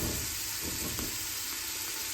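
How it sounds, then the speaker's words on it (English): Garlic roasting in a hot pan gives off a continuous dense sizzle and crackle of frying, close and steady throughout with no pauses. "See how that garlic's getting good and roasted in there?"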